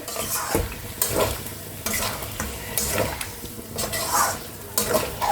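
Yogurt-marinated chicken sizzling in a pan as a spoon stirs it, with repeated scraping strokes roughly once a second over a continuous close frying hiss, no talking.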